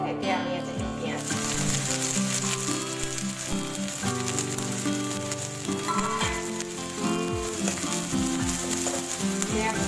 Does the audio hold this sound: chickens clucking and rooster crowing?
no